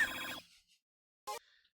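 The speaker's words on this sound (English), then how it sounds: "I really wish the other one, Mr. Dr. Dazzle, would pick up his goddamn phone" A phone rings once in a loud, bright burst at the start, followed after a short silence by a second brief ring chirp, alone without talk.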